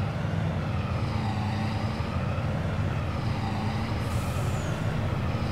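Truck in Farming Simulator 22 pulling a load, a steady loud engine drone with a low rumbling throb that runs unbroken throughout, with no talking.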